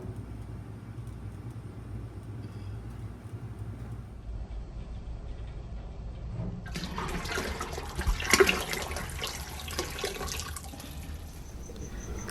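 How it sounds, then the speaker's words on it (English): Water pours steadily into a pot of stock for hot pot, a rushing splash that starts partway through and continues to the end, close and moderately loud. "before adding 4 cups of water"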